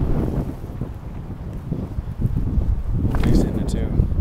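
Strong gusting wind roars across the microphone on an outdoor disc golf course, loud and rumbling throughout and surging stronger near the end, with faint voices underneath.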